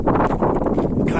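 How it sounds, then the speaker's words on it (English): Steady wind gusting across a pilgrim footpath on the Camino de Santiago between Frómista and Sahagún, a broad continuous rushing roar buffeting the microphone with uneven swells throughout. "It's windy, eh?"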